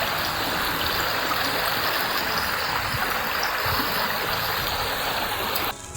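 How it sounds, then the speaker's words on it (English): A mountain stream in New Zealand's wilderness rushes steadily in a dense, unbroken wash of water, close and constant, cutting off sharply near the end. "So this stream comes down from the side of the mountain."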